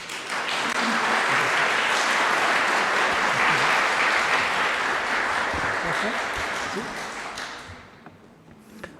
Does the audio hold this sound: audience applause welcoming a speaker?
yes